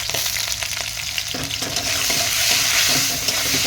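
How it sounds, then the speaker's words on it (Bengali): Cauliflower pieces sizzle steadily in hot oil with a little turmeric, stirred in the pan with scraping and clinking of a utensil, loud and close throughout, no voices. "এই যে ফুলকপিগুলোও দিয়ে দিয়েছি, নেড়ে চেড়ে সামান্য হলুদ গুঁড়ো"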